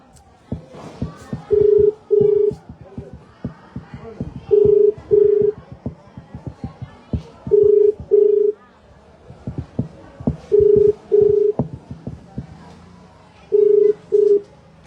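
An unanswered phone call plays its ringback tone as paired rings repeating about every three seconds, with clicks and background noise between them.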